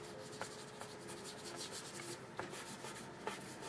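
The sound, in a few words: finger rubbing watercolour paint across paper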